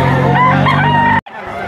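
A rooster crows loud and close at a poultry auction market in Lipa, Batangas, one strained harmonic call that breaks off sharply, followed by background crowd noise.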